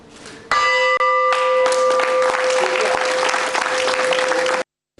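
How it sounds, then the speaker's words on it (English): A ceremonial bell rings at the Colombo Stock Exchange, a sustained bright ringing that starts abruptly and holds steady with loud applause and clapping from the gathered crowd layered over it. "we have come here to Colombo Stock Exchange for the bell ringing ceremony."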